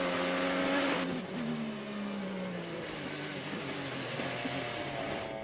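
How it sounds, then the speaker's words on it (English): An IndyCar race car on the Toronto street circuit, its engine note stepping down sharply as the driver downshifts hard under braking just before a crash. Loud, close and continuous, with the revs dropping and briefly recovering. "He's trying everything. He's downshifting."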